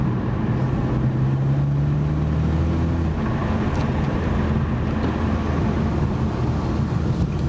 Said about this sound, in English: You do get more constant turbo whistle